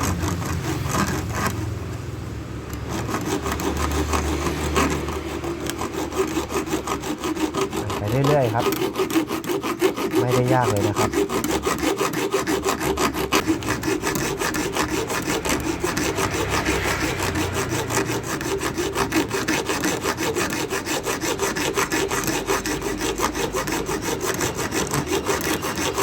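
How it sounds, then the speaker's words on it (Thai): Steady back-and-forth hacksaw cutting a slot into a rusted, stripped Phillips screw, a continuous rasping metal rhythm that runs throughout, close by, with a brief voice talking over it. "ใช้เป็นใบเลื่อย ตัดเหล็กครับ เข้าไปอย่างเดียวแล้วก็หั่นเข้าไปครั"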